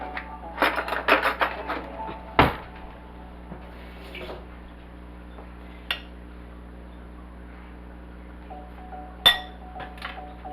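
A metal spoon clinks against glass and ceramic dishes while a pork-with-stuffing dish is made, giving a quick cluster of bright taps followed by scattered single clinks against a quiet kitchen hum.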